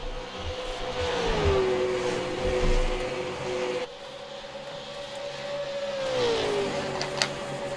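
Super Late Model race cars circle the track at Dover, a sustained engine whine rising and falling in pitch as the cars pass, over a continuous wash of distant motor roar.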